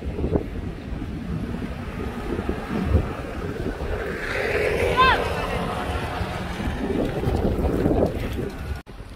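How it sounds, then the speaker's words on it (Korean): Strong gusty wind roars steadily across an outdoor microphone, swelling louder in the middle, with faint voices and a brief high chirp mixed into the blustery rush. "그냥 바람 많이 부는 거래."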